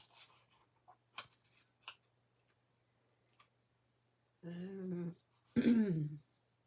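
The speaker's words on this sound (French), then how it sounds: "Aimez-vous ça, découper dans le papier?" Scissors snipping through paper during a folding craft session: a few sharp, isolated clicks and snips at close range, followed by two short bursts of nearby speech.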